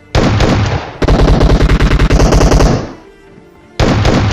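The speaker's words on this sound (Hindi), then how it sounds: "पहली बार में 2 शॉट देके उसको डैमेज किया" Rapid bursts of shotgun fire from a video game match set on a military base, loud and close, in two dense volleys with a short pause and a final burst, no talk.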